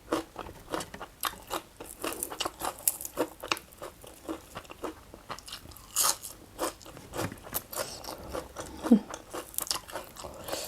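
Crunchy chewing while eating a Thai goi khom dish, with steady close bites and crunches repeating throughout, fairly faint and without talk.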